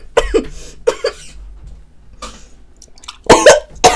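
Several harsh coughing bursts from a person who swallowed water the wrong way, a cluster near the start, one more midway and a loud fit at the end, close to the mic.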